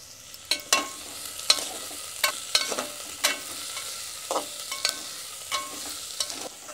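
Onions sprinkled with salt fry quietly in a pot, a soft sizzle punctuated by sharp, irregular spoon scrapes and taps against the pot.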